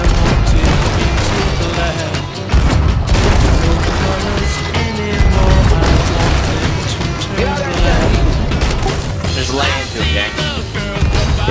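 Loud, dense barrage of booming cannon blasts and explosive bursts in the video game Sea of Thieves, with voices and music-like layers mixed throughout.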